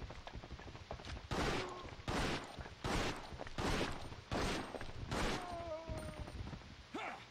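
Gunfire in the PS2 zombie survival game Biohazard Outbreak, about seven loud separate shots at roughly steady intervals of under a second, each with a short echoing tail, with faint groans between.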